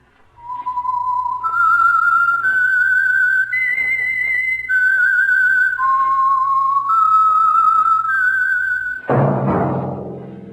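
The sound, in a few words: signature whistle theme of radio show The Whistler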